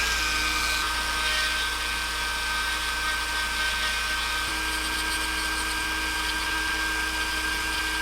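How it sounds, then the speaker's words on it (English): Rotary tool spinning a large ball burr bit as it carves the mouth of a wooden crankbait lure, a steady high-pitched whine holding loud and continuous throughout with no talking. "Big gnarly ball burr bit."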